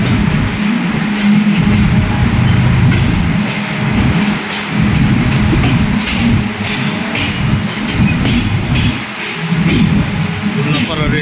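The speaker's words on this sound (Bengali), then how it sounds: "ট্রেন চলেছে।" A moving train rolls past Ullapara railway station and its last platform, a loud steady rumble of wheels and carriages heard from on board, with talk over it throughout.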